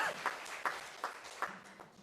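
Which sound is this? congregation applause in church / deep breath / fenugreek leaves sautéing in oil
congregation applause in church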